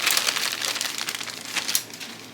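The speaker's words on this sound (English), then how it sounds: "slide them back into their plastic bag" Thin plastic bag crinkling steadily as plastic model kit sprues for a 1/350 Trumpeter USS Lexington CV-2 are slid back inside. Close, continuous rustling with a sharper crackle near the end, no talk.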